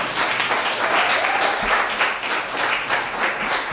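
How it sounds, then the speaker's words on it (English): A crowd gives a steady round of applause at a book launch in Harare, with even, dense clapping throughout at moderate loudness. "Another round of applause for the 25th hour."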